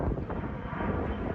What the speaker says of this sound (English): I'm gonna let this plane go past me really quick.